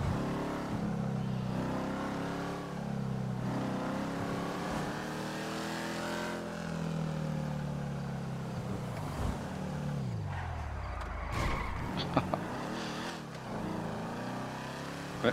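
A car engine in GTA V on PS5 revs hard and rises and falls in pitch, a loud, continuous racing roar with brief thumps and scrapes near the end.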